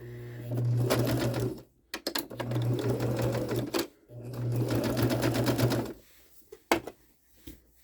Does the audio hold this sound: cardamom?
no